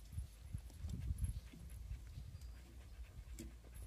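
A dog pants in quick, low, rhythmic breaths close by, with a faint whimper, at a fairly quiet level around a construction site.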